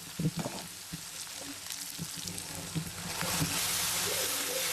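Chopped capsicum fries in a hot pan, giving a steady crackling sizzle that grows louder and denser in the second half, with a few soft stirring knocks and no talk.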